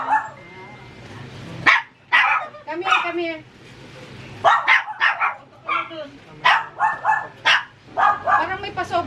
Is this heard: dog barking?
yes